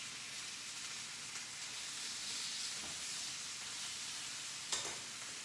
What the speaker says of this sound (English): I think the short ribs got a nice little sear on them